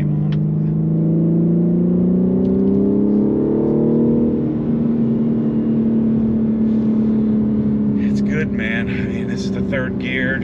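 A 2021 BMW G80 M3 pulls in third gear, its engine droning steadily with a rising pitch that drops back at a shift, sharp clicks and rattles cutting in near the end.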